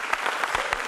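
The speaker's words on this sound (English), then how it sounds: "So big round of applause to the HostingCon team" Conference audience applause for the HostingCon team, a short, fairly faint patter of many hands clapping in a hall, heard alone without talk.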